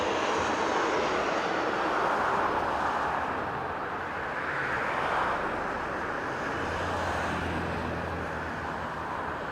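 A jet takes off at Las Vegas Harry Reid International Airport, heard as a broad, steady, loud engine roar that swells and fades slightly, with a low rumble near the end.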